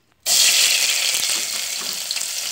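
Onions hit a hot frying pan with a sudden loud sizzle that holds steady and bright, crackling continuously with no voices over it.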